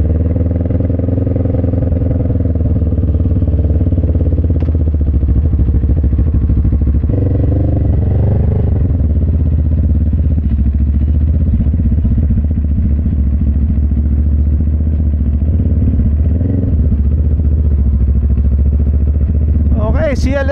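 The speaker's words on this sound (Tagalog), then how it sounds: "Okay, CLX 700 adventure bike." A CLX 700 adventure motorcycle engine runs steadily and loudly close by, a deep continuous rumble with a slight pitch shift midway, and a brief sharp sound near the end.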